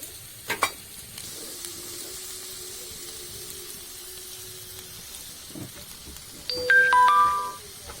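Rice being stir-fried with vegetables for Bengali-style fried rice, a faint sizzle with scattered stirring clatter and a sharp knock early on, then a brief electronic ringtone-like tone sequence toward the end.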